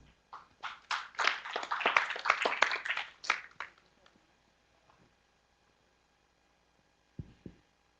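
Applause from a conference audience at an internet governance forum welcoming a speaker, a few seconds of moderate clapping that fades out, followed by near silence and a couple of faint taps.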